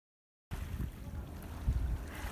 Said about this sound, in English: if you listen, you can also hear the water coming up onto the shore.